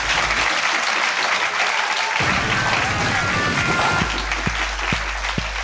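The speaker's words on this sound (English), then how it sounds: "please give a big round of applause to the amazing Katherine Ryan" Audience applause fills a live comedy podcast recording, loud sustained clapping with some crowd noise, tapering toward the end where a few separate thumps stand out.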